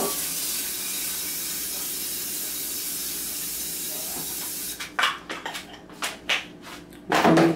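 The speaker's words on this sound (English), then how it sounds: "We're gonna spray it, and I'm using vegetable cooking spray." A long continuous hiss of an aerosol vegetable cooking spray, followed by several short bursts and rattles as the can is handled nearby.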